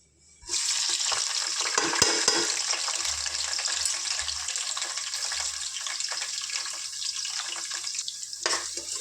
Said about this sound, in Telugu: ఒక టూ ఆనియన్స్ ఒక టెన్ మిర్చి వేసుకుంటాను